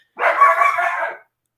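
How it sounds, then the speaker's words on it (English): A single close, loud dog bark, one drawn-out yelp-like bark in an indoor room, with silence before and after. "Excuse my dog."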